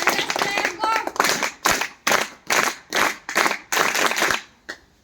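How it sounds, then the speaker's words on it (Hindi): A group at a rural livestock awareness session claps in rhythmic unison, about seven loud, evenly spaced bursts, after a short stretch of speech at the start. "इसके लिए तालियां बजाओ।"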